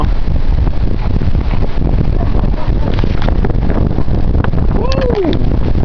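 Strong blizzard wind roars steadily outdoors, a loud continuous rush buffeting the microphone throughout, with a faint tonal whine near the end.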